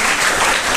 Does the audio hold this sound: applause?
yes